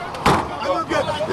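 A car door slams shut once with a sharp, close thump, amid voices talking at a tense outdoor roadside scene.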